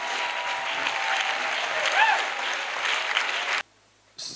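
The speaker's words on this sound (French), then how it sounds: "Clap. Acclamation." A church congregation claps and cheers during a prayer service, a dense sustained burst of applause with a brief whistle-like cheer in the middle, cutting off abruptly near the end.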